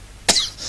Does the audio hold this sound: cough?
yes